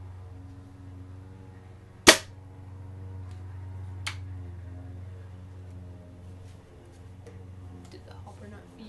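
A homemade gun fired at a target about two feet away, giving one sharp, loud crack followed by a fainter snap two seconds later, over a low steady hum and light background noise.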